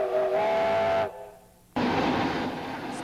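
A steam locomotive's whistle blows a loud, steady tonal blast for about a second, cuts to near silence, then chuffing steam and rolling train noise surge back in close by.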